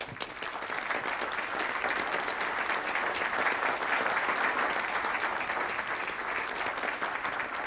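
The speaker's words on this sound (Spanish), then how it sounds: "Un aplauso para el doctor Weber" Dense, continuous audience applause for a lecturer giving a talk on pain, a steady wash of many hands clapping at once from a sizeable crowd, fairly distant and unbroken from start to finish.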